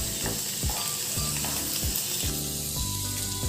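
Onion sautés in a pan over a medium flame, a steady bright sizzle running throughout while a spatula scrapes and knocks rhythmically against the pan every half second or so, close and fairly loud.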